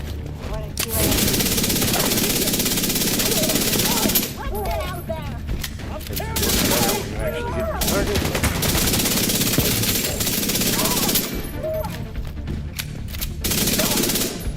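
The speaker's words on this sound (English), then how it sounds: "And here I'm going to switch to the SMG." SMG bursts in The Division 2, loud sustained rapid-fire gunfire filling most of the stretch, with brief gaps between bursts and a voice talking faintly underneath.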